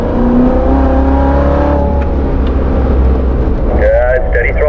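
A performance car's engine roars on a race track at Spring Mountain Motorsports as the throttle is eased off and squeezed back to full, giving a loud, close droning whine with shifting pitch under an instructor's talk.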